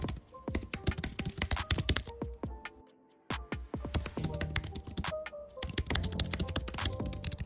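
Rapid, steady clacking of computer keys, typed close up with one brief pause midway.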